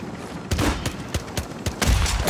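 Rapid gunfire in Warzone 3: a close, loud volley of sharp shots in uneven bursts, crackling one after another with no pause.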